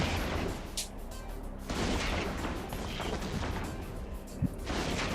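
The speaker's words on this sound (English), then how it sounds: "at least we get some fireworks, some rail guns and some blasters shooting" Rail guns and blasters fire in a space battle in EVE Online, a dense, continuous barrage of overlapping booming shots with sharp cracks, steady and loud throughout.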